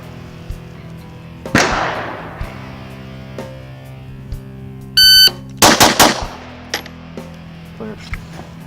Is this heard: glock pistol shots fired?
yes